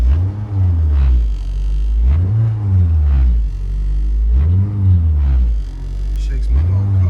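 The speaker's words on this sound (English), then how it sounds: "it's making a horrendous noise on the passenger side that vibrates and shakes my whole entire car" A Honda Civic with worn engine mounts gives a loud, deep rumbling vibration from the passenger side, swelling and fading in a steady pulse about every second or so, heard up close.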